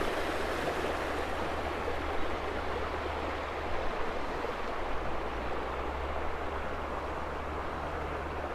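Steady broadband rushing of water at Hope Lake, an even wash with no breaks, fairly quiet and continuous throughout.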